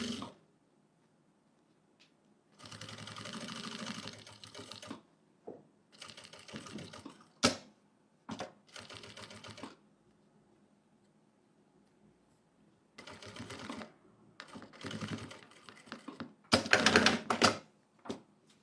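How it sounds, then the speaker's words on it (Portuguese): A home sewing machine stitches a fabric cover for a health booklet in slow, stop-and-start bursts around curves, each run of mechanical whirring separated by pauses and a few sharp clicks, close and clear with no talk. "Nas curvinhas, vai costurando mais devagarzinho, diminui a velocidade"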